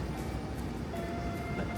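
A tram pulls away in the streets of Lviv, a steady rumbling rolling noise of wheels and motor, continuous and fairly close, with no talk.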